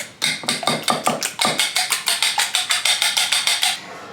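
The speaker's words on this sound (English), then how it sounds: "Gotta cut sourdough." A knife saws through a crusty sourdough loaf in a home kitchen, giving a fast run of about twenty crisp, evenly spaced scraping strokes, close and clear.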